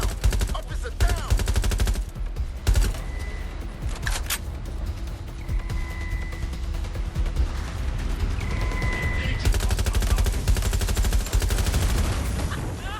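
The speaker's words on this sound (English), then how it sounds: "Shots fired! Shots fired!" Gunfire in Watch Dogs Legion during a police shootout, with rapid loud bursts of automatic shots and single cracks repeating through the scene, close and dense, with brief tonal game sounds between volleys.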